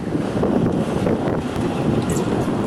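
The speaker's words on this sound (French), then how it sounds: "avec le vent, c'est pas facile de filmer" Strong wind gusts buffet the microphone near Mont Blanc in Haute-Savoie, a loud continuous low rumble with shifting gust surges and no speech.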